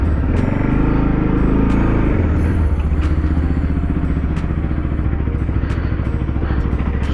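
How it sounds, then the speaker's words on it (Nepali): A Bajaj NS200 motorcycle idles as it warms up, its engine making a steady, close, rhythmic putter with quick regular pulses and some light clatter. "सो बाइक चाहिँ वार्मअप हुँदैछ अहिले"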